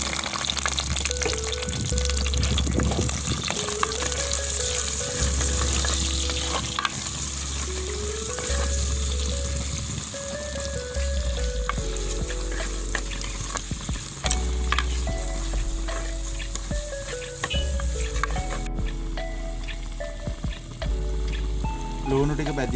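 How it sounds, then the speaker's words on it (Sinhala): Garlic and onions frying in a pan, a loud continuous sizzle with stirring scrapes and clinks throughout, close up, with a brief voice in the background. "සුදු ලුණු ටික බඩෙන්න දාලා බීලුණු ටිකත් එකතු කරමු."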